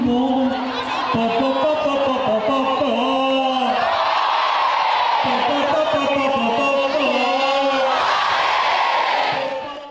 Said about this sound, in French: Vous méritez des applaudissements, vous méritez les félicitations de tout le monde.